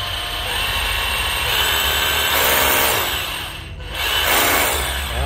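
A secondhand Japanese battery drill runs in hammer mode, a loud, close, continuous rattling grind that dips briefly and then surges back.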